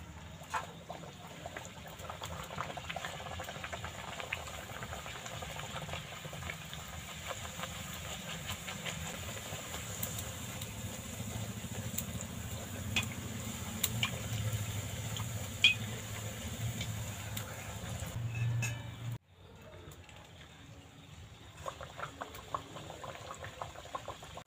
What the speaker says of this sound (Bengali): তেলটা গরম হয়ে গেছে, এবার এক এক করে ভেজে নেব